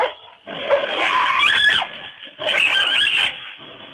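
A dog squeals and yelps in two long, strained bursts, loud and close, with no talking over it.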